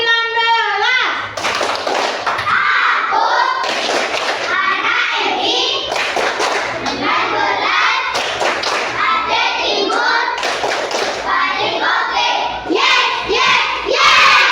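Children clap and chant together in the Tepuk min 19 clap chant during a classroom religious studies lesson: loud, continuous rhythmic clapping under energetic young voices for the whole stretch.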